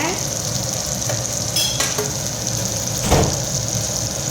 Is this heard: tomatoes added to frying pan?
yes